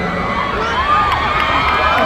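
Crowd cheering and shouting at a Thai red-versus-blue team sports match, a dense continuous roar of many voices with whoops rising and falling, steady and fairly loud throughout.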